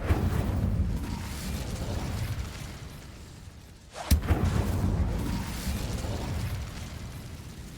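Incendio fire spell in Hogwarts Legacy, a sharp crack followed by a booming, roaring burst over continuous rumbling combat noise.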